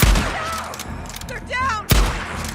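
Gunfire in the video game Days Gone, with a few sharp shots and bursts near the start and another loud blast toward the end, and some game sounds between them.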